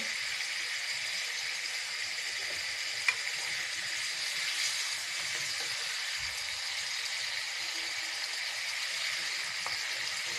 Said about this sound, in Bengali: এবার মাছের মশলায় কাঁকড়গুলো কষিয়ে নেব